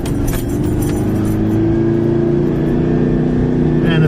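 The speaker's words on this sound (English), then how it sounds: "when I drive this, builds up speed, but when it loses its speed, it struggles because it's just not got the power in the engine" A car engine labouring and droning steadily while driving, short of power from a wrong gear ratio and sounding boggy near the top, loud and continuous throughout with a faint voice underneath.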